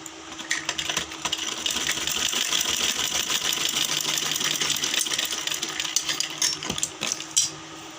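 A sewing machine stitches along the edge of a kurti, a rapid steady mechanical rattle close by with a few clicks and knocks, and no talking.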